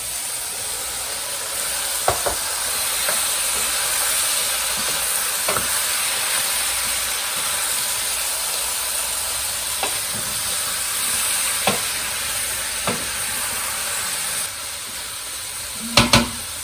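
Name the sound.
scallops and steak sautéing in a pan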